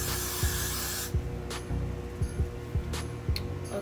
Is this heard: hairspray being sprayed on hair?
yes